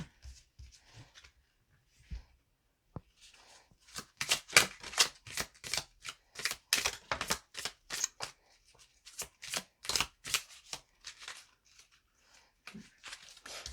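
Oracle cards being shuffled by hand in a quiet room, a few faint riffles at first, then a dense run of loud, crisp card flicks and slaps, alone without talk.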